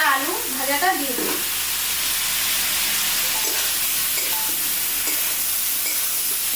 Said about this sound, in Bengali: এর মধ্যে ইঁচড় আর আলু ভাজাটা দিয়ে দেবো